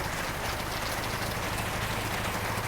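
Rain falls steadily, a constant even hiss of drops that fills the whole scene without pause or voices.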